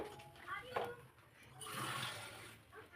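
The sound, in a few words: water poured into dal for sambar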